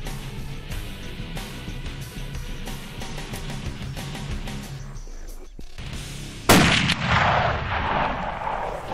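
Rifle shot while hunting red hartebeest among rocks in Namibia, a single loud sharp blast with a rolling echo after a stretch of faint whispering and rustling.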